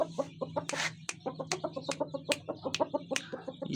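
A rooster on a backyard farm with young chicks clucks in a rapid, steady run of short calls, close and loud, with a brief louder squawk near the start and no voices.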